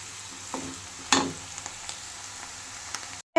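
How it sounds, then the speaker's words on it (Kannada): Onions fry in a pan for road-side egg rice, a quiet steady sizzle with a few stirring scrapes and one sharper clatter, ending in a brief cut. "ಫ್ರೆಂಡ್ಸ್, ಆ ಕಡೆ ಈರುಳ್ಳಿ ಫ್ರೈ ಆಗ್ತಾ ಇದೆ."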